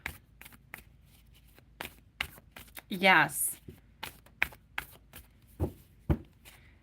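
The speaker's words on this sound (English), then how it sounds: "I'm going to read it to myself as I'm shuffling the cards" Tarot cards being shuffled by hand, a run of soft papery riffles and taps with one longer burst of rustling in the middle, close and quiet, while a voice speaks briefly.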